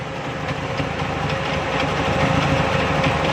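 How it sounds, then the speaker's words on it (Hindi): A car engine running on CNG idles steadily at a constant, unrevved pace, a dense continuous rumble with no rise in speed; the car has a petrol-side misfire fault. "ये देखें, ये गाड़ी रेस नहीं ले रही।"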